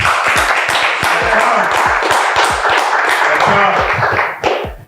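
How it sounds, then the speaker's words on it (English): Audience clapping for a guest arriving on a talk show, a steady dense patter of claps with scattered whoops and voices mixed in, loud and close throughout. "Start clapping right now."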